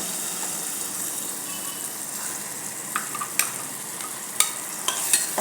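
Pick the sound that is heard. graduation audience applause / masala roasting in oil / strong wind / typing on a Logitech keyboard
masala roasting in oil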